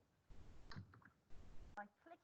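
Computer keyboard keys are pressed for the Control J shortcut, giving two short bursts of close clicking with a voice murmuring nearby.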